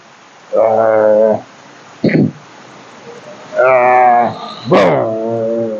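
A person imitates a big dog, giving several deep, drawn-out barking woofs in short bursts with gaps between them, close and loud.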